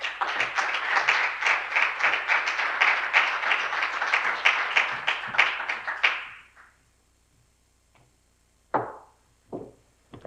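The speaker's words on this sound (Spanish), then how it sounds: "un fuerte aplauso para Estrella" An audience claps for about six seconds to welcome a speaker at a talk event, the applause then dying away into near silence broken by a few isolated knocks and handling noises.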